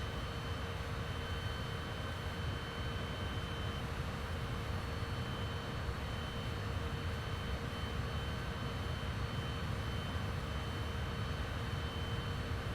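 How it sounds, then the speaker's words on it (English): Aircraft approaching to land in Microsoft Flight Simulator, a steady broadband engine and airflow roar with faint tonal whine, constant and unbroken throughout with no talk. "We got 2 aircraft on their way in to land."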